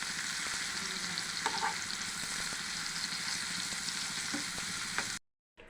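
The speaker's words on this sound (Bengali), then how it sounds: "এখন পেঁয়াজটা লাল লাল করে ভেজে নেব" Sliced onions with turmeric and salt fry in oil until reddish-brown, a continuous close sizzle with scattered faint pops and stirring clicks, cutting off abruptly near the end.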